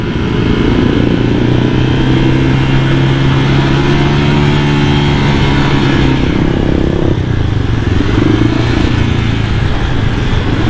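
A Honda Vario 180cc motorcycle with its stock exhaust rides along steadily, the engine droning loud and continuous with slight shifts in pitch as speed changes, and no voices present.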